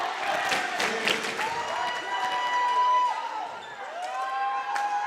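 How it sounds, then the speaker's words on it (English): Crowd at a boys volleyball tournament semifinal cheering and applauding at a tied score, a broad, moderately loud wash of clapping and shouts with scattered whistles and voices, sustained over several seconds. "And here comes the crowd"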